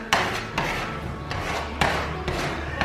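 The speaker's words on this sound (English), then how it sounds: "just scraping off that finishing wax underneath" Scraper pulling old finishing wax off a distressed shiplap wall, a series of close, scratchy rasping strokes with sharp onsets recurring every half second or so over a steady rough background.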